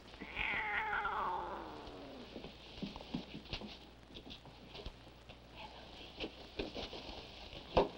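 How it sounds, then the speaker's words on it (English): A house cat in a bedroom gives a drawn-out meow at the start, followed by softer scattered tapping and shuffling, with a short faint cry near the end. "Hey, cat, get."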